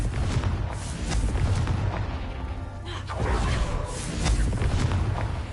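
Confringo blasting spell explosions in the Hogwarts Legacy video game, a dense run of booming blasts and rumbling bursts stacked over continuous game sound, loud and close throughout.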